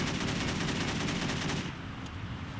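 Sustained AK automatic fire in Driver: Parallel Lines hammers out as a rapid, even stream of loud, close shots for about a second and a half, then breaks off into a quieter rumble with one faint late crack.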